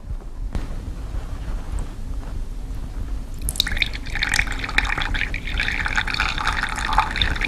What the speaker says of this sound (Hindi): अब मैं ये पत्थर इस पानी में डालूंगी।